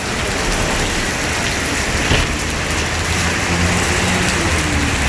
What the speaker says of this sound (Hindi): वाह क्या बात है, कितनी तेज बारिश शुरू हो रही है।